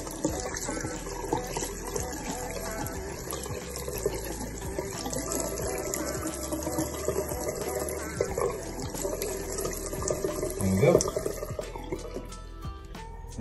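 Water from a running tap splashes and trickles continuously over a heat pump filter basket being rinsed, moderately close, with a brief louder gush near the end.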